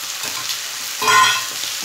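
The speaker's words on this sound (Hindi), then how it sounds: "हम इसमें मिला देते हैं आपने बॉयल किए हुए सेंजने के फूल को" Boiled drumstick flowers are stirred into a sizzling frying pan, with soft scraping stir strokes over a steady close-up fry, one louder stir in the middle.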